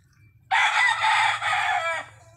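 A rooster among reject chickens kept for culling crows once, loud and close, a single drawn-out call lasting about a second and a half with no other sound around it.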